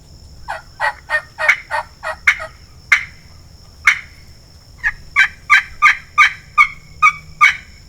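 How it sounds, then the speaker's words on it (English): Wild turkeys in the South Florida woods gobble loudly and nearby in rapid rhythmic bursts, a run of about eight calls, a few spaced single gobbles, then another quick series of about ten. "Not far behind those hens was a bigger wad of turkeys,"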